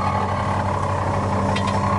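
A 1970 Chevrolet Chevelle SS sits at fast idle, and its cooling fan runs with a steady, slightly noisy whir over the constant low hum of the engine, held close and even throughout.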